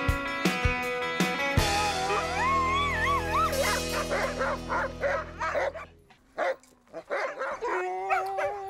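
Sled dogs near Yellowknife bark, yip and howl excitedly before a dog sled ride, a loud chorus of overlapping barks and wavering howls close by.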